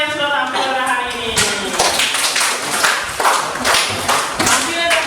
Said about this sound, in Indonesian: Bapak ingin kasih dulu tepuk tangan dulu untuk semua yang sudah tampil pada hari ini